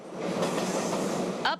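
A subway or city train passes nearby, a steady loud rumble of wheels and rail noise that holds for over a second and ends in a brief squeal.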